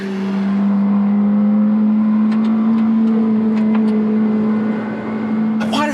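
A McLaren Senna supercar starting its first timed lap gives a sustained, strong engine drone that holds fairly steady with faint higher whines and clicks, heard from inside or near the car.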